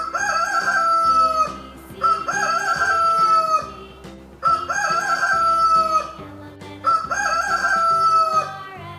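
A rooster crows loudly in repeated cock-a-doodle-doo calls, four crows in a steady rhythm, alongside clucking fowl over a backing music track.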